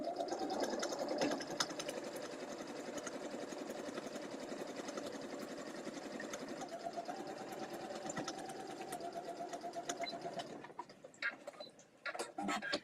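A sewing machine stitches quilt blocks in a steady, fast, rattling whir for about ten seconds, then stops, leaving a few scattered clicks and taps.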